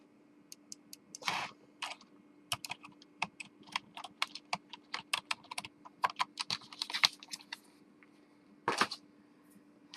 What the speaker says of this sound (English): Let's see if I can type here.